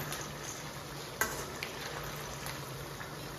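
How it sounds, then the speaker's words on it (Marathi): Onion fries in a pan for a Kolhapuri onion-garlic chutney, a soft, steady sizzle with a few faint clicks of a utensil against the pan. "जो कांदा अजून तळालाय"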